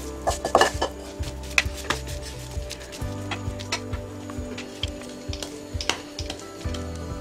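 Coconut burfi being moved onto a plate: a series of light metallic clinks, scrapes and taps from a utensil against pan and plate, irregular and close, with a low hum underneath.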